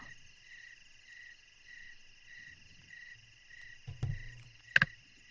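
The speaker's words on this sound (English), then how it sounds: "Crickets." A steady, high-pitched chorus of chirping crickets pulses faintly, with a few soft thumps near the end, during a Dungeons & Dragons 5e game session.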